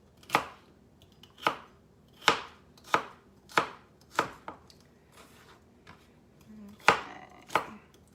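A knife finely dicing a stalk of celery on a cutting board, about ten crisp, evenly spaced chops, close and distinct with quiet pauses between strokes.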